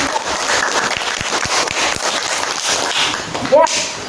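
Applause rings out for two student presentation groups in a classroom lesson, a few seconds of scattered, uneven clapping with a voice talking over it.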